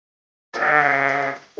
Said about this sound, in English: Next we have sheep. Sheep are fluffy animals that give us wool.